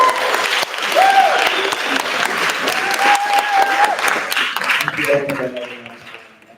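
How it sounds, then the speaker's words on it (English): Big round of applause from a gym crowd for volunteers at a trans community event, dense clapping with scattered cheers and whoops that fades toward the end. "We have a huge round of applause."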